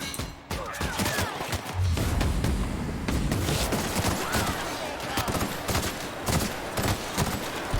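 Bursts of gunfire in The Outer Worlds: Peril on Gorgon, a sci-fi shooter played on Hard, with sharp shots and heavier booms in a chaotic firefight and a voice talking over the battle.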